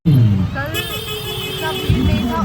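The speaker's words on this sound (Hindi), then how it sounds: "आज भीड़ है रोड पे, आप देख सकते हैं बहुत ट्रैफिक है" Busy road traffic with cars and motorcycles rumbles close by on a crowded street during the Chhath festival, with engines droning, a brief horn toot and people talking nearby.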